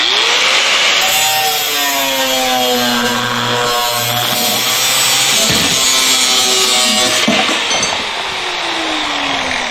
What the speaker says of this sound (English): Grinder with a cutting wheel.